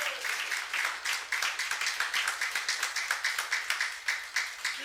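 A church congregation at a youth service applauding, many hands clapping in a fast, steady rhythmic pulse filling the room, loud and sustained without talk.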